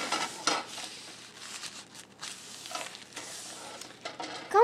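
A crêpe frying pan being oiled, with close scraping and wiping strokes across the metal in uneven bursts, a light sizzle underneath and no talking.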